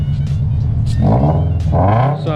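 A car engine revs hard on a Rocket Bunny kit FRS, a loud, close throttle blip that rises and falls in pitch over a deep rumble.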